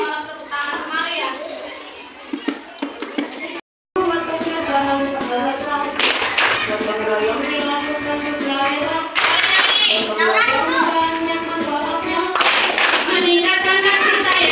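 Fifth-grade children in a classroom perform a clapping game, with sung, chanted voices running throughout and bursts of group hand claps joining in at intervals; a brief silent gap comes early on.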